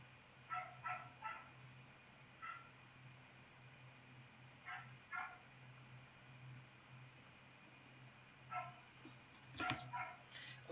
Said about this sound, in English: The dog is bothering them